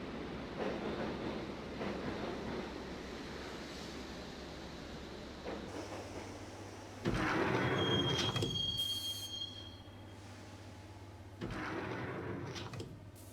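A subway train ride in the game Max Payne: a low rumbling carriage with wheel squeal, a sharp metallic screech, and rising and falling clatter as it runs, heard from inside the car.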